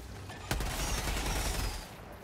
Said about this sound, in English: I one tap these guys with shotguns